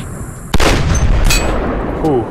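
Gunshots in the mobile shooter game Sierra 7: a sharp loud shot with a booming tail, a second fainter report soon after and another near the end, all close and dominant over game ambience.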